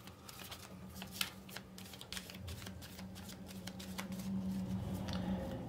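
Tarot cards are shuffled close by in a quiet room, a faint run of soft riffling flicks and papery rustles without any talking.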